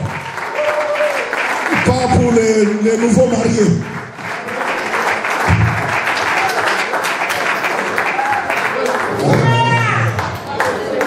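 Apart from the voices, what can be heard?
crowd cheering and applauding for the couple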